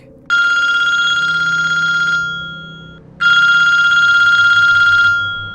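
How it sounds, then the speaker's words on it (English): A telephone bell rings twice in long bursts separated by a brief pause, loud and close, with no voices. "Just after 9 o'clock that night, the phone rang."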